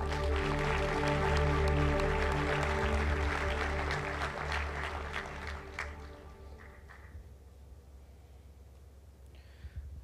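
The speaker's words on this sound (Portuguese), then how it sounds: "Aplauda o Senhor." A congregation at a pastor's sermon breaks into loud applause over sustained music, the clapping strong at first, then thinning and fading away after about six seconds while the music carries on quietly.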